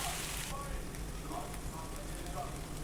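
Onion-chilli brinjal (ulli karam vankaya) fries in a pan with a steady, soft, rain-like sizzle that continues throughout.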